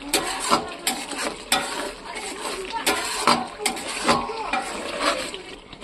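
Spice masala is stirred and sautéed in oil in a pan, giving a soft sizzle broken by regular scraping strokes of a spoon, close and moderately loud, with a voice talking over it.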